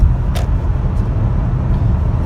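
A 2020 Mercedes-Benz GLC300 4Matic cruising at highway speed, heard from inside the cabin as a steady low road and engine drone with faint passing bumps.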